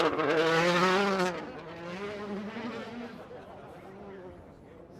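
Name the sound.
Hyundai rally car launching from start line at Goodwood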